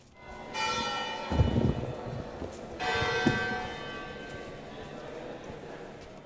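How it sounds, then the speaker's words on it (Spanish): The University of Salamanca's bell, known as la cabra, rings out with two separate resonant strikes, each followed by a long, humming decay. "la universidad insistió en que no era posible un orden adecuado sin un reloj, de modo que su campana, llamada la cabra, marcó las horas de las clases"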